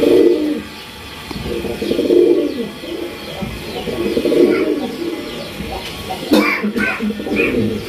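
Rare Raj Golla male pigeons coo in repeated rounded pulses, moderately close, with faint chirps and light background noise between the calls.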